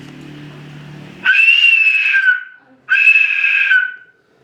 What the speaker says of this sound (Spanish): silbato de la muerte.